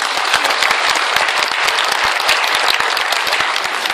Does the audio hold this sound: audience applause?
yes